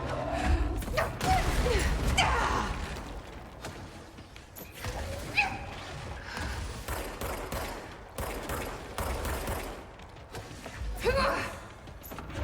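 Enemy gunfire aimed at the player in the video game Control, with bursts of shots, mechanical clatter and explosions in a dense, loud mix that runs the whole stretch.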